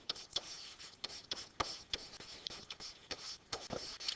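Pen or marker scratching out a math formula on a writing surface, a steady run of short strokes and taps close by with no talk.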